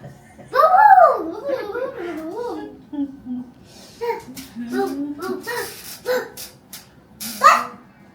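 A dog barks and yips indoors at home in a few short bursts, mixed with whiny vocal sounds and a voice nearby.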